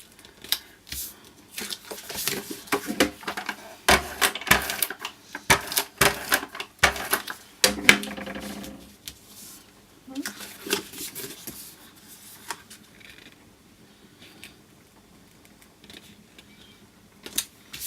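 A sewing machine stitches in quick rattling bursts, running in short stretches with pauses between, close by and mechanical.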